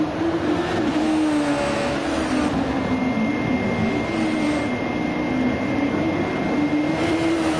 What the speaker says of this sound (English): there's the 2 Stone Age Motorsport cars switching places as Wittmann pulls to the inside